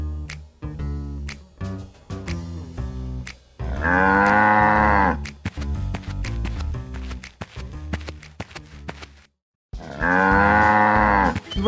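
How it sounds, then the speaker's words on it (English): A cow moos loudly twice in long drawn-out bellows, with busy rhythmic music playing before and between the calls. "there came a restless and unstoppable cow"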